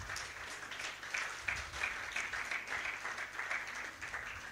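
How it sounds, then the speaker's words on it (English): At a university summit, a crowd gives a fairly quiet, steady round of applause during a gift presentation, a continuous patter of many hands with slight swells throughout. "a round of applause as he gets gifted"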